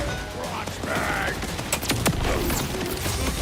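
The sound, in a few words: fireworks shield exploding in video game Borderlands 4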